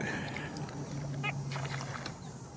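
A bird calls at the edge of a pond with a duck-like quack near the middle, fairly faint over a steady low outdoor hum.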